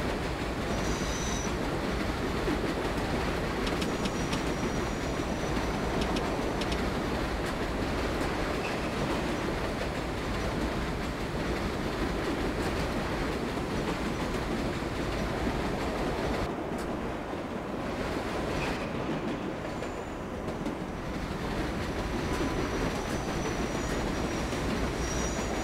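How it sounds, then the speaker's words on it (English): A subway train in the video game World of Subways runs at speed, a loud unbroken rumble of wheels on track with occasional faint squeals, steady throughout, no speech. "Which is why we're on a train"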